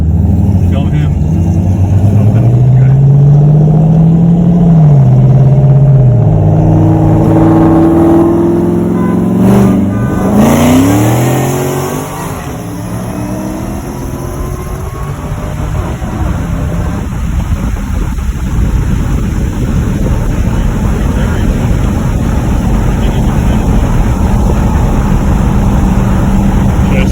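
A 2014 Ford Shelby GT500 does a burnout on Nitto tires, its engine revving hard with rising and falling pitch before breaking into a loud, sustained roar of spinning rubber, with voices nearby.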